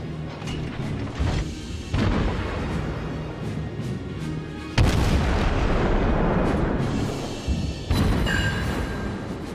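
Naval guns fire and shells explode in World of Warships, heavy booming blasts with mechanical clanks and creaks between them, loud and close, with no talk over them.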